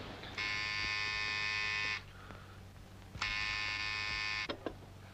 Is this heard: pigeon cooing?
no